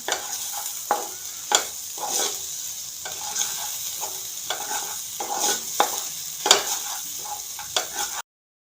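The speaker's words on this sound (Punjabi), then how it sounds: "ਲੋ ਜੀ ਇਹਨੂੰ ਆਪਾਂ ਚੰਗੀ ਤਰ੍ਹਾਂ ਮਿਕਸ ਕਰ ਲਾਂਗੇ" Spiced sweetcorn is stirred in a pan, a spoon scraping and tapping in repeated strokes over a soft, steady sizzle, close and clear with no talk.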